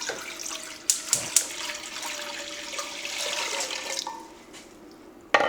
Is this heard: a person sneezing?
no